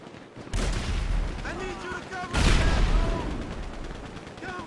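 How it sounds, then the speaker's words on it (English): Rapid gunfire in GTA Online, two loud bursts of in-game shooting, the second the heaviest, with voices talking over the shots. "How is he shooting that fast?"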